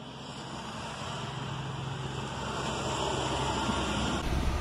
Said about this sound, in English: It's a windy day out and it's extremely loud.